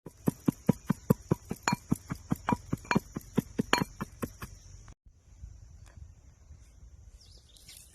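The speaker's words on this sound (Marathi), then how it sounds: "ह्यो कापूर या खलबद्यामध्ये टाकायचा आहे हंगा असा, आणि ह्याला काय करायचं आहे, मुसळीनं असा बारीक करायचा आहे" Camphor being crushed with a pestle in a khalbatta mortar: quick, evenly spaced clinking strikes for about five seconds, then softer scattered grinding. A faint high chirping runs in the background.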